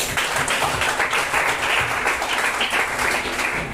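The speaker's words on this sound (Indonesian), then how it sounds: "tepuk tangan untuk dunia" Applause for a student's long jump during a school physical education lesson, a dense steady patter of clapping from a group filling the whole stretch at even loudness.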